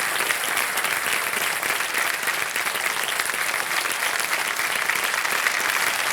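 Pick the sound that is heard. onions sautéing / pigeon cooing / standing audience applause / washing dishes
standing audience applause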